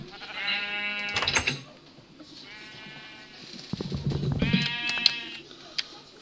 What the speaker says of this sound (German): Damit haben wir unser zweites schwarzes Schaf.